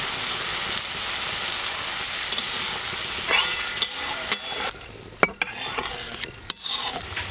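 Water poured into a frying masala gravy sets off a soft hissing simmer, with close scraping and clinking of a spoon stirring against the pan at irregular intervals.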